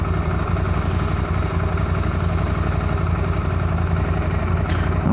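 A KTM 890 Adventure motorcycle engine runs steadily at moderate revs in Ireland, giving a continuous, even drone with a faint mechanical clatter throughout, loud and close with no talking.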